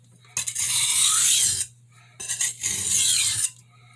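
A santoku blade is drawn across a silicon carbide sharpening stone in two long, rasping strokes, each about a second and a half, close and loud with a brief pause between them.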